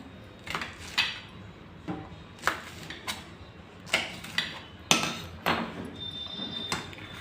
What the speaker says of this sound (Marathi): आता ह्या मिरचीचे पण 2-3 तुकडे करून घेऊया